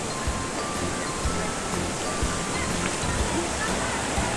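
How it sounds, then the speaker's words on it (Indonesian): The Jembong waterfall gives off a steady, broadband rush of falling water that is loud and unbroken, with no clear speech above it. "Jadi air terjunnya di belakang."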